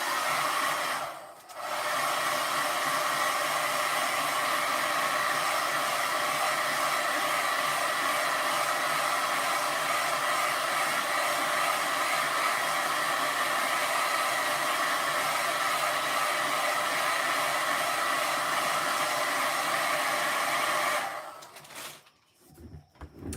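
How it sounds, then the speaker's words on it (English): A hair dryer blows on a freshly painted watercolor seahorse, a loud steady whooshing roar running continuously for about twenty seconds before clicking off. "I'm gonna go use the hairdryer."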